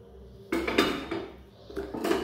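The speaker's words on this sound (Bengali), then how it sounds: "এবার আমি এই চাল মানে গোবিন্দভোগ চালটা ঢেলে দেবো এর মধ্যে" Gobindobhog rice pours into a pot of warm milk with a few close metallic clinks and knocks of a utensil against the pot, short bursts separated by brief pauses, no talk.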